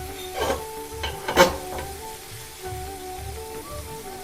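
Fish fry sizzling on a tawa over medium heat after being flipped, a steady close crackle with a few louder scraping knocks near the start.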